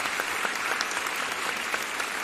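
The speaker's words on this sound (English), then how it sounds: "Should have had my clap ready." A crowd applauds steadily, dense clapping that is moderately loud and continuous throughout, with no voices over it.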